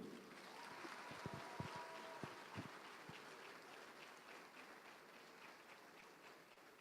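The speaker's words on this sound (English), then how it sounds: "Another round of applause will do." Applause at a ceremony inducting newly qualified pharmacists: a broad, steady wash of clapping from a sizeable audience that carries on evenly for several seconds, with a few sharper individual claps near the start.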